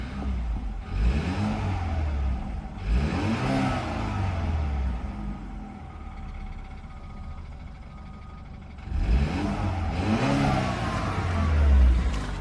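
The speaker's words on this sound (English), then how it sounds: "Let's give it a couple of revs." A 2013 BMW 328xi four-cylinder engine is revved twice in quick bursts, then settles to a steady idle before a third rev climbs louder near the end, heard close by and clear of talk.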